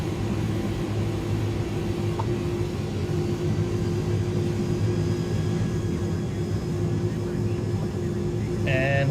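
Jet engines of an Airbus A300 in a flight simulator, a steady droning hum with a low rumble holding level throughout, and a short electronic tone near the end.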